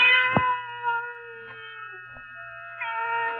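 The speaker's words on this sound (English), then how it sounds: "the silence was broken by the faint crying of one cat" A cat gives a long, drawn-out, plaintive meow that wavers in pitch and then rises again in a second cry, close and clear against quiet, as a sound effect in a 1948 radio drama.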